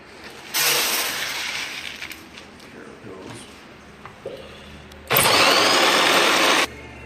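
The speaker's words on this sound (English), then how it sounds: "Okay, so I'm just going to start milling this." A motorized grain mill grinds malt for a stout beer, whirring loudly in two separate bursts of about a second and a half each, with quieter room noise between them.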